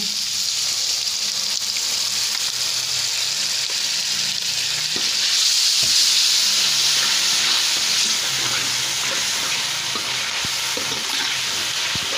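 Curd added to hot spices with turmeric in a pan for chana dal, a loud, close, continuous hissing sizzle that swells in the middle, with occasional soft stirring knocks and no speech.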